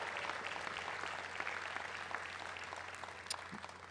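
Graduates at the UMass Amherst 2022 undergraduate commencement give a sustained round of applause, a faint, distant, steady clapping from a large crowd over a low hum for about four seconds.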